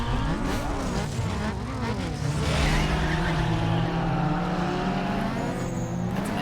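A car drifting in a race, its engine revving loudly with rising and falling harmonics while tires squeal and skid through power slides, continuous and close throughout.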